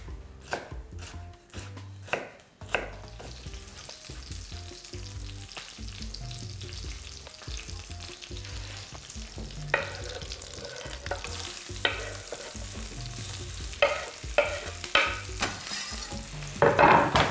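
Food for potatoes stuffed with cottage cheese sizzles steadily in a frying pan, with sharp clatters of stirring and scraping early on and a denser, louder frying hiss building toward the end; no voices.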